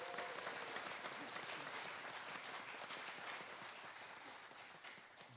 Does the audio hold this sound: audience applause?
yes